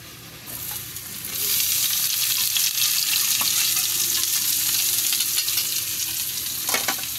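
Bitter gourd (ampalaya) hitting a hot pan, the sizzle swelling loud after about a second into a steady close-up frying hiss, with a few stirring scrapes and a clatter near the end.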